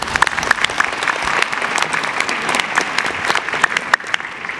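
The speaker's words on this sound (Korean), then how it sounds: "대답을 해주실 네 분한테 굉장히 박수를 부탁드립니다" An audience at a university admissions strategy talk show in Korea applauds for the four panelists, a dense, steady round of clapping from a sizable crowd, close and continuous throughout.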